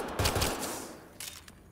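Rapid gunfire bursts in the sci-fi shooter game Mass Effect: Andromeda, a quick cluster of loud shots followed by a few more sharp reports after a short pause.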